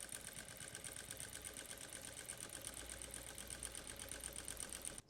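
Sewing machine stitching lace along a curved neckline, running steadily with a fast, even mechanical chatter close by and stopping at the very end.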